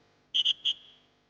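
A dog training whistle gives three short, shrill blasts: two close together, then a brief gap and a third, loud and near with no other sound around them.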